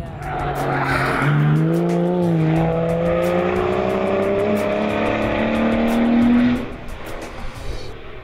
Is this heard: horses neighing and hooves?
no